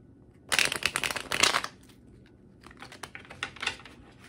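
Tarot cards being shuffled by hand, a close, crisp riffling flutter in one long burst followed by a second, lighter run of quick papery flicks, with no voices.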